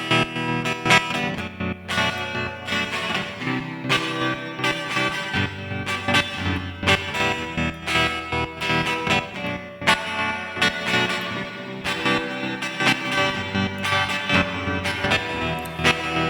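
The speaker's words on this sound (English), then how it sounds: "Let's add some reverb." A rhythmic synth pattern from the Output Movement plugin with pulsing chords, each hit trailing into a washed-out reverb tail, steady and loud with no voices.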